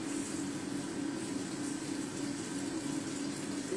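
Water is poured into a spoonful of starch to dilute it, a steady, continuous trickling and running stream of water, fairly close and unbroken throughout, with no talk.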